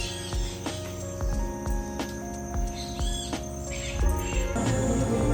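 Birds call and chirp over a lush tropical lakeside at Lake Arenal, Costa Rica, with repeated sharp tweets and calls against a steady insect-like background hum, fairly close and continuous.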